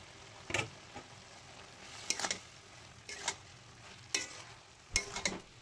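Banana stem and mung dal stirred in a pot give soft, faint scraping strokes at irregular intervals, about six separate swishes with quiet pauses between them.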